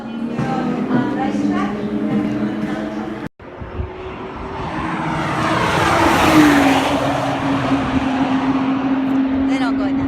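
Race cars on the 2016 SA 5 Mortlake to Inverloch road event in Victoria roar loudly past, engine note climbing and sweeping through a close pass before settling into a sustained drone, with a brief cut and faint voices early on.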